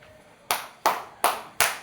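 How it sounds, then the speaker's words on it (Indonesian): A group clapping hands in unison during an Indonesian teacher mentoring session, four sharp, evenly spaced claps close by after a quiet start. "Bikin tepuk tangannya."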